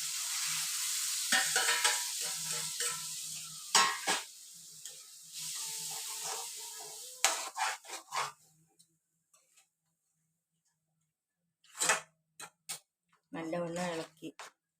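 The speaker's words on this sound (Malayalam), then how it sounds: "വേവിച്ച് വെച്ച പരിപ്പ് ഈ തടുക്കയിലോട്ട് ഇട്ട് കൊടുക്കുക." Cooked dal tipped into a hot spice tadka in a pan for Punjabi dhaba-style dal fry, with bursts of sizzling and spoon scraping that come and go, broken by quiet gaps.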